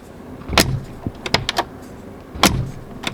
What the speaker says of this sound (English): they've kept the cool sounding doors